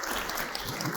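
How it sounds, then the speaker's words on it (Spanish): Audience applause at a panel talk, a brief dense burst of clapping filling the whole moment. "Un aplauso también."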